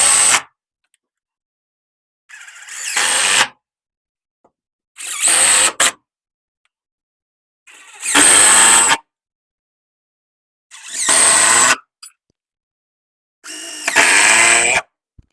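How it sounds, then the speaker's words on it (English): A power drill drives screws into window clips during a house window install, five separate whirring bursts of roughly a second each, loud and close, with silent gaps between them and no talk. "Now, add the rest of the screws."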